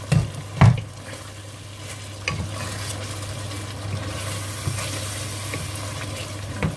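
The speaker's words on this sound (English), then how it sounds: "Let's give it a stir." A spoon stirs a simmering stew of mixed vegetables and diced meat seasoned with Knorr, giving a couple of sharp scrapes and knocks at the start, then a continuous bubbling sizzle with occasional clinks against the pot.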